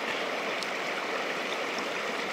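A large summer torrent near a bivouac at Niakonarsouk, Greenland, rushes steadily in a loud, continuous broadband roar of fast-flowing water with no voices.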